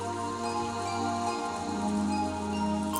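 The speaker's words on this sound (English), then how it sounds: "As we listened to the sound of the rain" Steady rain sound effect from the visual novel Umineko no Naku Koro ni, a constant soft patter blended with a sustained tonal music bed, moderately loud throughout.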